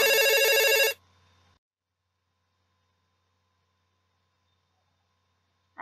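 A telephone bell rings loudly for about a second, then cuts off into near silence with a faint hum.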